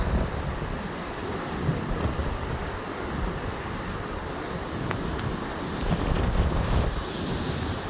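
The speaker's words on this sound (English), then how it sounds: "Now there's your destructive waves." Storm waves surging at Quoddy Lighthouse in Lubec, Maine, during tropical storm winds: a steady roar of surf with heavy wind buffeting the microphone, swelling slightly near the end.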